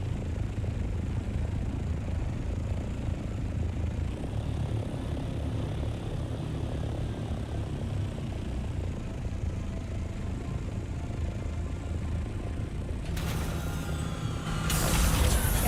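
A helicopter in the Dune video game: a steady, droning engine and rotor hum that holds unbroken throughout, rising slightly with a brief burst of brighter mechanical noise near the end, with no talking.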